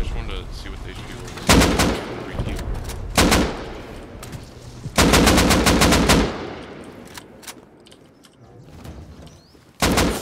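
Gunfire in the survival game Rust, several bursts of loud automatic rifle fire separated by pauses, the longest burst sustained for about a second, followed by a final sharp volley.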